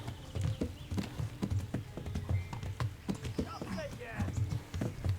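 Rhythmic hoofbeats of a horse in the video game Kingdom Come: Deliverance clatter in a quick galloping pattern, with the horse snorting and people talking over the top.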